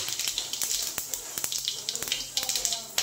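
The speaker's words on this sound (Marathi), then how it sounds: "कढईमध्ये तेल ठेवले गरम व्हायला. आता जिरे टाकते" Cumin seeds tossed into hot oil in a wok crackle and sizzle close by in quick, irregular pops, with a light running-water hiss in the background.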